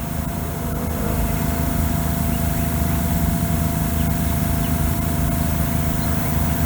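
Compressed air hissing steadily onto fresh custom paint on a Chevy Silverado to flash it dry, a continuous loud rushing blast with a constant engine-like drone beneath.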